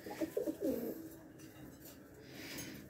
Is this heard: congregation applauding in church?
no